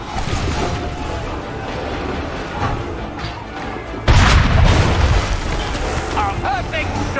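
A heavy cannon shot booms out in Assassin's Creed III during a battle against redcoats, a sudden loud blast over a constant rumble of battle noise and scattered voices.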